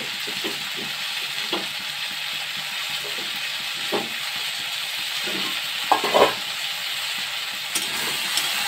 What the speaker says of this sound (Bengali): এখন পেঁয়াজ বাটা দিয়ে দেব।